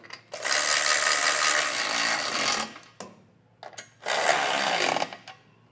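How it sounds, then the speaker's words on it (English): A power tool drives a 19mm socket to snug hitch bolts on a Curt trailer hitch receiver for a 2024 Honda Odyssey, with two loud sustained whirring bursts and a short blip between, close up and with no talk. "we'll be using a 19mm socket to snug this all up"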